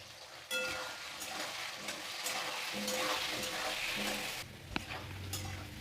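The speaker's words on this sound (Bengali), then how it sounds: "এবার আলু আমি ভেজে নেব।" Potatoes frying in hot oil in a pan with a pinch of salt and turmeric, sizzling loudly and steadily up close, with a few stirring scrapes and a sharp utensil knock near the end.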